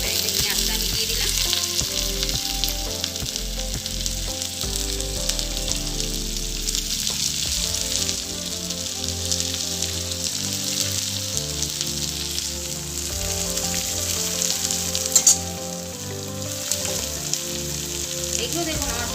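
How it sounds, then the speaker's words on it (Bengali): Chopped onion frying in refined oil for a home-cooked chicken dish, a steady loud sizzle and crackle running throughout with occasional stirring scrapes. "আজ এই চিকেনটা কিন্তু পুরো রিফাইন অয়েল দিয়েই করছি। পেঁয়াজটা আমি দিয়ে দিলাম।"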